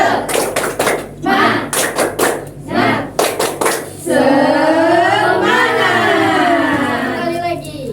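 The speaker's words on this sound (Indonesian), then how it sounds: "Satu, dua, tiga. Tepuk semangat." A class does rhythmic tepuk semangat clapping during a micro-teaching accounting lesson, with sharp bursts of hand claps over the first half, then sustained voices chanting and talking.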